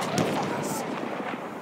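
Gunfire and explosions in the Battlefield 1 multiplayer Domination mode on PS4, with rapid shots and blasts crowded together, mixed with voices talking over the dense battle noise.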